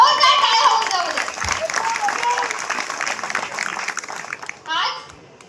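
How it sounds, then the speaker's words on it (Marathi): A crowd of villagers applauds at a palkhi dance competition, steady broadband clapping lasting several seconds with voices and children's chatter mixed in, and a brief fresh burst near the end. "एका जोरदार टाळ्या होऊन जाऊ दे."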